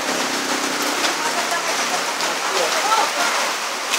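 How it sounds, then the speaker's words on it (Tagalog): Steady rain falls and patters on surfaces at Barak, a dense and even hiss throughout, with voices faintly underneath. "Nang dumating tayo sa barak, umulan eh."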